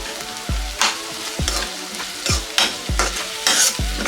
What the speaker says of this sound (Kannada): ಶುಂಠಿ ಬೆಳ್ಳುಳ್ಳಿ ಪೇಸ್ಟ್ ಕೂಡ ಹಸಿ ವಾಸನೆ ಹೋಗೋ ತನಕ ಇದನ್ನು ಫ್ರೈ ಮಾಡ್ಕೊಳ್ಳೋಣ